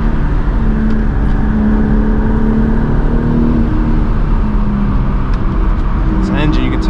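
Steady engine drone from a manual BMW M4 G82 while driving, a continuous low hum running throughout under faint talk.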